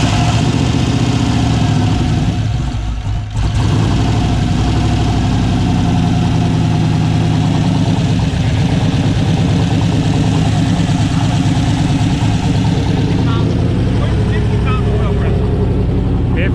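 A turbocharged 6.0 LS engine fires for the first time and settles into a loud, rough, throbbing idle, heard up close with a brief dip early on before the rumble holds steady.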